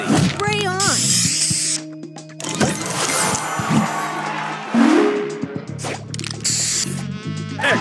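Spray booster effect in the Match Masters puzzle game, a loud hissing spray burst mixed with mechanical whooshes, tonal game chimes and announcer voice lines, in quick busy succession.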